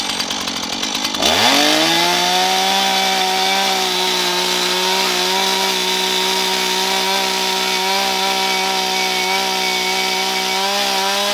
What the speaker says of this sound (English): I want to go at chainsaw